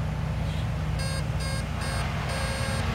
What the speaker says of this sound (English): that's 4 beeps.